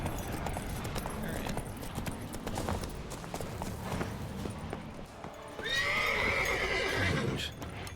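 Roach, the horse in The Witcher 3, gallops with steady hoofbeats under game music. Near the end it gives a loud, close whinny.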